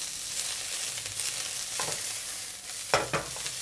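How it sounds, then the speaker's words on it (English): Thinly sliced red onion fries in oil in a pan with a steady, soft sizzle. A couple of brief stirring scrapes come near the end, no voices. "Add in 100 grams of red onion, thinly sliced like this. Fry them until they are a little bit translucent."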